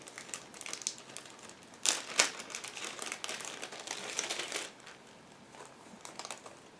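Plastic bags holding transparent and blue model kit sprues for a 1/35 Tiger Model IDF Nagmachon Early being opened, giving close, continuous crinkling and rustling with a couple of sharper crackling bursts, no talking.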